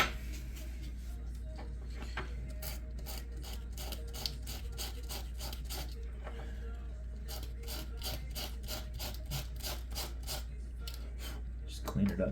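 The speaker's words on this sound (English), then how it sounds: "Might actually hit it with a little bit of sandpaper here." Brass being sanded by hand with sandpaper: a long run of steady, rhythmic back-and-forth rubbing strokes over a constant low hum, close and moderately loud, quickening slightly before stopping.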